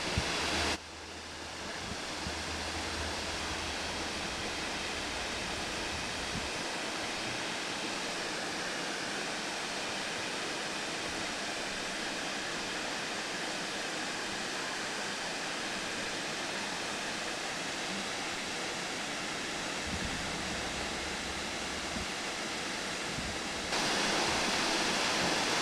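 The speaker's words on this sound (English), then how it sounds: "we're going to have to end this video on a beautiful waterfall" Miners Falls, a waterfall near Munising, Michigan, roaring as a constant broadband wash of falling water, steady and fairly close, with brief low wind rumble at the start and end and no voices.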